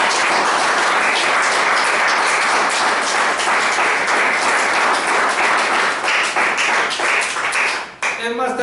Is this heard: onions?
no